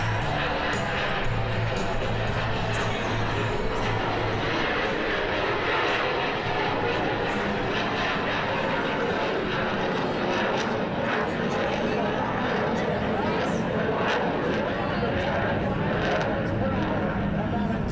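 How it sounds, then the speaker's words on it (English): A US Navy F-18C Hornet jet at an airshow thunders overhead with a continuous loud, broadband roar, with a crowd and announcer faintly audible beneath the engine noise. "United States Navy's F-18C Hornet"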